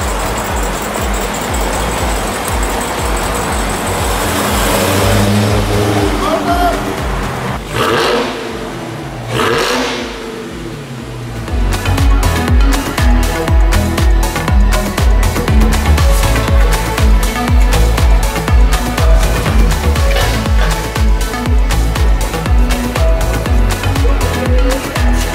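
A Dodge Hellcat with only 497 miles, fitted with a Borla exhaust, revving loudly up close: a sustained roar that drops away briefly, then returns as a hard, pulsing, rapid-fire exhaust note.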